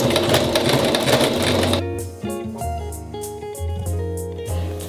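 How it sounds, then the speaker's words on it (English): Sewing machine stitching two fabric sides together into a circle for a macrame planter, a steady rapid mechanical whirr with rhythmic needle clatter, close and continuous, briefly shifting pitch midway. "I'm going to sew my 2 sides to create a circle"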